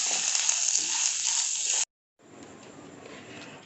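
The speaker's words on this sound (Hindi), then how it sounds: "अब इसमें हम कड़ी पत्ता डाल देते हैं। इसे भी भून लेना।" Curry leaves frying in oil in a pan, a bright, loud sizzle close up that stops for a moment and returns softer and sputtering, with no voices.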